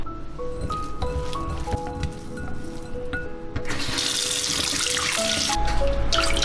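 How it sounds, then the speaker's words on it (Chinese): Pork ribs rubbed and washed by hand with a spoonful of starch in water in a home kitchen, steady sloshing and squishing with running-water hiss that grows louder toward the end, no talk. "排骨里加1勺淀粉，给它抓洗干净"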